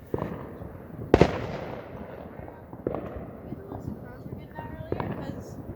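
Distant fireworks boom repeatedly and echo around an outdoor area near beaches and houses, a scattered series of thuds and crackles at irregular intervals over steady background noise.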